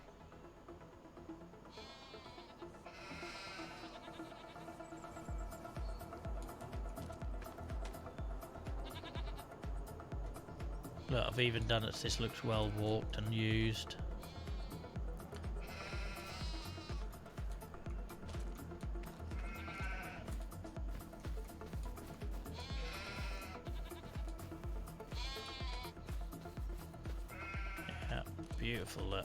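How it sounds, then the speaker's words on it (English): Sheep and goats bleating in Farming Simulator 25, repeated overlapping bleats of varied pitch that sound close and constant across the whole stretch, with someone talking over them. "If you can deal with the deafening noise of the sheep and the goats."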